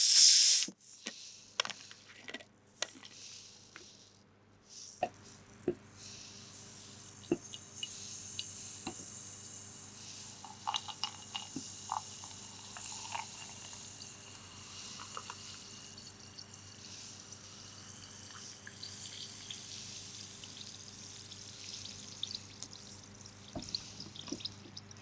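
Coke Zero Sugar fizzing after a pour, a faint close-up hiss of bubbles with scattered tiny pops and crackles fading slowly over a quiet background.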